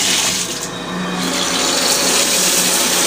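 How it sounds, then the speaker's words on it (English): Running water rinses soap out of laundry in a sink, a loud, steady splashing rush close by that continues without a break. "I rinse off the soap."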